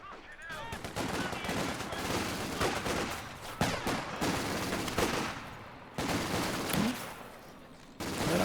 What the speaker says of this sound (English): Infantry firing at us, cheeky buggers.